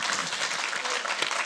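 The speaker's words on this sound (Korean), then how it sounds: "박수." Church congregation applauding during an Easter Sunday service, a brief, even wash of many hands clapping at moderate volume in a large room.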